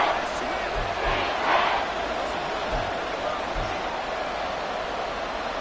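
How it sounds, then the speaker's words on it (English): A large crowd fills a football stadium with continuous loud roaring and cheering during a tense third-and-goal moment in a Washington game, with dull thumps under the steady wash of noise. "This crowd doing all they can."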